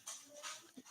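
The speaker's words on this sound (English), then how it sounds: "it's the dog crying" A dog whimpers and cries softly in short, faint whines mixed with breathy panting, heard indoors at a distance for about a second, with no speech over it.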